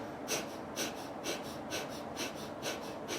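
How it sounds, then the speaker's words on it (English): Rapid Kapalabhati breath of fire during a kriya meditation practice: quick, forceful nasal exhalations in an even rhythm, about two per second, close and clear, with no talking. "while doing this is the practice of Kapalabhati pranayama"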